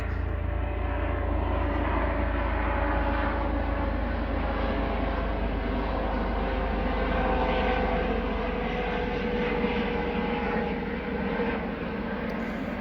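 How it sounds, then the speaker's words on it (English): A steady, loud helicopter drone fills the whole stretch, a continuous rumbling roar overhead with no talking. "helicopter's going overhead, so I can't hear myself think."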